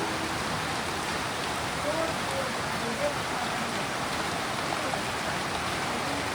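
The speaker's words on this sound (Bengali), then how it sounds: "বলতে বলতে জোর বৃষ্টি নেমে গেল, মানে যা হচ্ছিল তারও মানে আরও 4-5 গুণ বেশি বৃষ্টি শুরু হয়ে গেল।" Heavy rain, a sudden downpour in hill country around Pelling in Sikkim, roars as a dense, steady wash of noise throughout, with faint voices murmuring beneath it.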